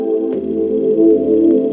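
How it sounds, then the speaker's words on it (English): FL Studio Poison bass line playing under very simple synth chords, a short sustained layered tone with a soft low attack, steady and close. "that's just the Poison bass line from FL Studio, and just played very simple chords."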